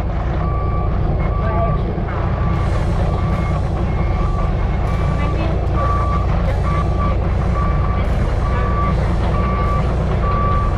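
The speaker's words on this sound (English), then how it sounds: "So we'll walk the digger down and get stuff done." A digger drives along with its reversing alarm beeping in a regular, repeating pattern over a loud, continuous engine rumble, close by.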